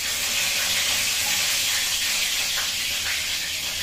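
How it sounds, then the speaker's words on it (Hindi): A bay leaf drops into hot oil in a home kitchen pan where potatoes were just fried, giving a loud, continuous bright sizzle and hiss that holds steady throughout, with no talk. "इसे तेल में मैं ये तेजपत्ता डाल देती हूँ"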